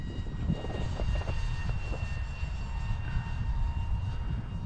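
An Eachine F-16 RC model prop jet, electric-powered, flies overhead with a steady whirring buzz of its motor and propeller, fairly loud and continuous, fluctuating slightly as it passes.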